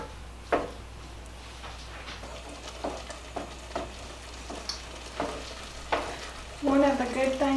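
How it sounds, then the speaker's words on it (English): Spoon stirring cream cheese as it melts into soup in a pot, with soft scraping and occasional knocks against the pot over a low steady hum, ending in a brief burst of voice. "I'm going to be adding in my cream cheese, and I'm going to let this melt. So you just keep stirring it"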